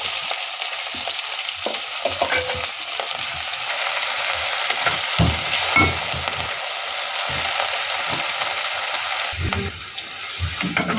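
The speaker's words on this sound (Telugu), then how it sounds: "ఆనియన్స్ ఇట్లా గోల్డెన్ కలర్లో వచ్చేటట్టు వేపాలి" Onions fry in hot oil with a continuous close crackling sizzle, broken by intermittent scraping and stirring knocks against the pan.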